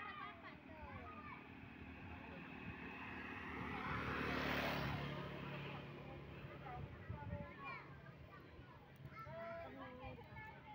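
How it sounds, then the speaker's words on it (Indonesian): An airplane about to depart near Sultan Mahmud Badaruddin airport in Palembang, its engine roar swelling to a broad peak midway and then easing, heard from outside the airport over steady people talking nearby. "pesawat mau berangkat nih."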